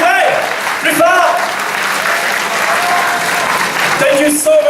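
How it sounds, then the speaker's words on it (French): A convention audience at the Paris Manga & Sci-Fi Show gives a loud, sustained round of applause, with a voice cutting in briefly over the steady clapping. "Je vous demanderai de faire une salve d'applaudissements s'il vous plaît pour Rémi Dumas"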